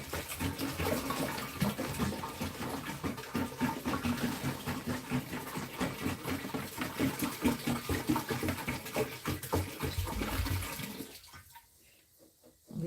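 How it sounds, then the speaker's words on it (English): Water gushes steadily into the tank of a Lettuce Grow Farm Stand, a loud continuous rushing pour that cuts off near the end, leaving near silence. "We're filling up the water."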